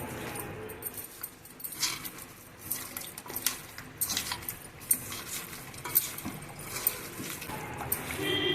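A ladle stirs spicy Andhra fish curry ingredients in oil in a metal pot, giving soft irregular scraping and clinking over a low background hiss.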